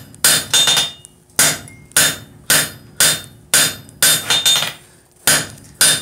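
Hot steel is forged on a beefy mild-steel striking anvil with a hammer, about ten loud, ringing blows in an uneven rhythm with short pauses between strikes.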